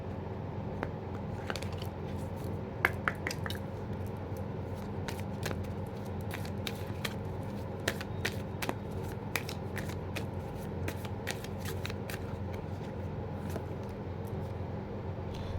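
Oracle cards shuffled by hand: soft, continuous riffling and flicking with irregular crisp snaps, close and quiet over a low room hum for about fifteen seconds.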